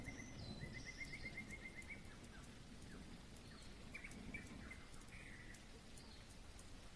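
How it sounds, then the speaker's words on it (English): Steady rain falls in a video game rainforest build, a soft continuous patter with faint bird-like chirps scattered through it, even and unbroken throughout. "Oh, we got the rain."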